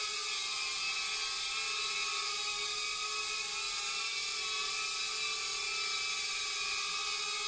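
An Emax Tinyhawk micro FPV drone hovers in flight, giving off a steady, high-pitched whir that holds unbroken and fairly constant for the whole stretch, with no talking over it.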